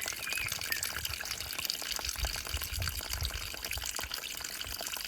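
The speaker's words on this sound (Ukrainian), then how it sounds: "Вода хорошо йде." Spring water flows and splashes steadily, a constant close gushing stream with fine dripping texture and no other sounds.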